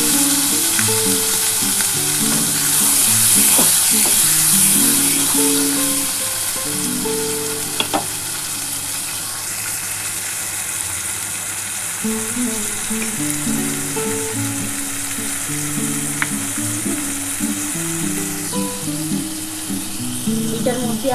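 Ground spice paste frying in a pan, with a loud, dense, unbroken sizzle and a few stirring clicks across about twenty seconds; close up, with a faint background voice now and then.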